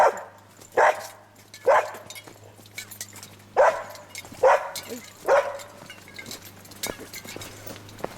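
An unleashed dog on a tourist hiking trail barks several times in loud, close bursts with uneven gaps, some yips and softer whimpers between, over a low steady hum and outdoor background.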